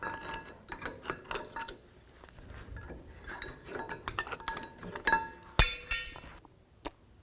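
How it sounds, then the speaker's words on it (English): A straight blade screwdriver prying out brake pads on a Ram 1500, with close metallic clinks, scrapes and taps in irregular bursts and a sharper clank near the end. "pry out the brake pads."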